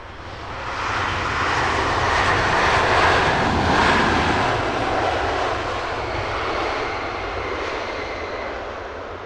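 A British Airways Airbus A350 drifts in to land on the north side at Heathrow: a loud, steady jet roar that swells to a peak and slowly eases, with no voices.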